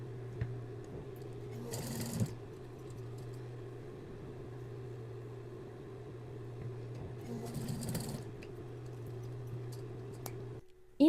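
A sewing machine runs a steady, low, continuous hum while stitching a safety seam on the front of a basic strappy tank top, broken by two brief louder rustles of handled fabric.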